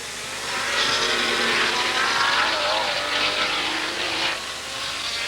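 1970s racing cars pass at Brands Hatch in wet conditions. Engines swell into a loud, sustained roar after a quiet start, holding for several seconds with a slight dip near the end.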